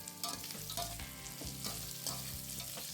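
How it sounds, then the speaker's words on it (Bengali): Mixed vegetables with cashews and raisins fry in spiced oil for veg pulao, with a close, steady sizzle and a spoon scraping and stirring in rhythmic strokes. "এবার সব সবজিগুলো ভালো করে একটু মিশিয়ে নিচ্ছি।"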